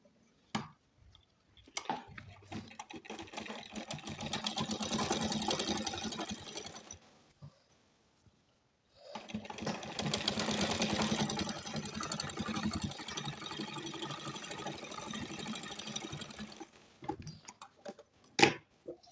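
A domestic sewing machine stitches a kurti in two long runs of rapid rattling whir, each several seconds long, separated by a pause, with scattered clicks from the machine between and after, close and fairly loud.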